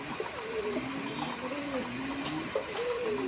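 Pigeons in a loft, among them Bombai, Lahori and other fancy breeds, give soft low cooing calls that rise and fall in drawn-out phrases over a quiet background hiss, fairly faint, with a few light clicks.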